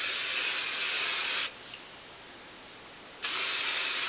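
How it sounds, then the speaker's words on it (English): Chi Infra texture hair spray hisses from an aerosol can in two steady bursts of about a second and a half each, close and loud, with a quieter gap between them while hair is styled. "you can really spray as much as this as you want"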